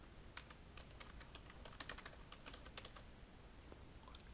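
Rapid, uneven typing on a computer keyboard, soft clicking keystrokes in quick irregular bursts, close and quiet with no voices.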